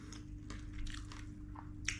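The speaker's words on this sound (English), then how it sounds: "Obviously you got the crunchiness of this, crunchiness of the bean sprouts, not cooked, so they're still a bit crunchy." Raw, uncooked bean sprouts being chewed close up in Kuala Terengganu, Malaysia, a string of soft crunches and bites over a steady low background hum.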